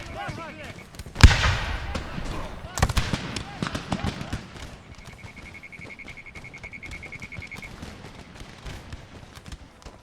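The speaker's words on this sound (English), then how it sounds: "Riflemen, fire." Riflemen fire crackling musket volleys in the strategy game Empire Total War during a river skirmish, with a sharp loud burst followed by scattered popping shots and a steady tone, while someone talks over the battle.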